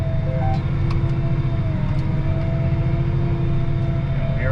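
A tractor pulling a Doyle fertilizer spreader drives off in spring, its engine a steady, loud low rumble throughout.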